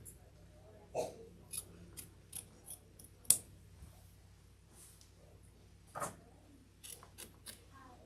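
Small scissors snip loose threads on a quilt block, a string of sharp, quiet clicks spread irregularly across a near-silent room, with a couple of louder snips.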